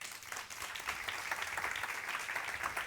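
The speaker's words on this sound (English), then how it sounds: "Please give him a warm round of applause." Steady applause from an alumni forum audience, fairly quiet and distant-sounding, continuous clapping for the full stretch with no voices on top.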